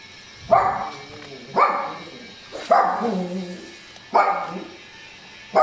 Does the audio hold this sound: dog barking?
yes